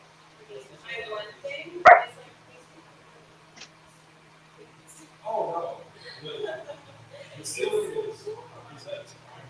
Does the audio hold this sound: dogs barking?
yes